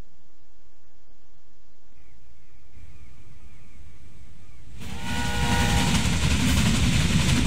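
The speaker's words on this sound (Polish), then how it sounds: "Przyjrzyjmy się jeszcze temu pociągowi." Train running in the video game Railway Empire: a quiet rolling rail rumble and faint whistle-like tones at first, then a loud, steady rush of wagon noise with clattering from about the five-second mark, with no talk.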